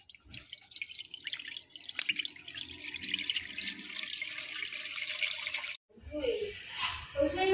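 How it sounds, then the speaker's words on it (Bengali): About 700 grams of milk is poured into a pan, a close, steady trickling splash that runs for several seconds, stops abruptly, then gives way to a voice talking. "এবার এখানে আমরা 700 গ্রাম মতো দুধ ঢেলে নিচ্ছি।"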